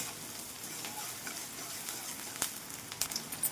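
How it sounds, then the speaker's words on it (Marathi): Onions fry in a pan with curry leaves, cumin, mustard seeds and garlic, giving a steady, soft sizzle throughout with a few sharper crackles and pops near the end, close but low in level. "कांदाही मस्तपैकी फ्राय झालेला आहे"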